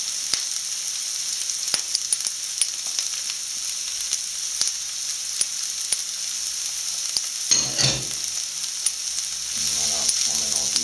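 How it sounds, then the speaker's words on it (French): Finely chopped onions and garlic sizzle steadily in a pan over medium heat, a constant close frying hiss with faint stirring clatter and a louder scrape toward the end. "On va rajouter oignons et ail, tout ça haché fin."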